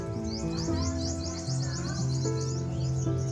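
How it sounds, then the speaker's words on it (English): Caged birds at a restaurant chirp in quick, repeated twittering trills, fairly close, over a steady background of sustained tones and low hum. "have a look at the various birds in cages."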